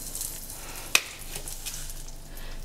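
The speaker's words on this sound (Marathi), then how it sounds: "तेल तापलं आहे, आपण हिंग घालायचं" Asafoetida dropped into hot oil sizzles with one sharp burst, then settles into a faint, steady hiss with light crackles from the pan.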